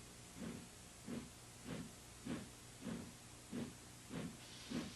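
Cartoon steam locomotive chuffing along with steady rhythmic bursts of steam hiss, eight evenly spaced puffs, faint and regular.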